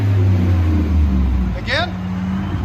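A supercharged 6.2L V8 in a 2018 GMC Sierra Denali with Magnaflow dual exhaust rumbles deep and steady at close range, with one quick rising rev swell partway through and faint voices underneath.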